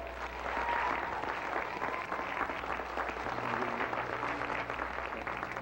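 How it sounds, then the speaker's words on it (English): Continuous clapping from a Sesame Street audience, moderately loud and even, with a low hum underneath throughout. "Give him a big round of applause"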